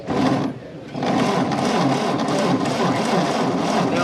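Starter cranking a 1929 Ford Model A engine that won't fire: a dense, steady mechanical churn close by, with a brief dip near the start before the cranking picks up again.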